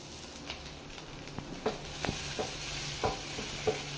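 A spoon scraping and tapping as butter corn masala with chopped coriander is stirred in a pan, with soft irregular clinks over a faint sizzle, close and quiet.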